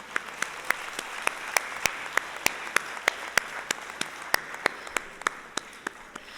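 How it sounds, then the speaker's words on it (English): Sparse, evenly spaced claps ring out at a Bharatanatyam arangetram to honor the orchestra, a thin rhythmic clapping of a few hands over quiet room tone. "Can we please have a big round of applause honoring them?"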